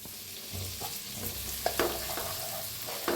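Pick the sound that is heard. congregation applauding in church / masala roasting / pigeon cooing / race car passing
masala roasting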